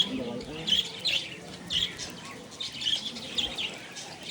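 Pet budgies at a feeding session chirp in short bright bursts with soft wing flutters, fairly close, while someone talks to the birds over them.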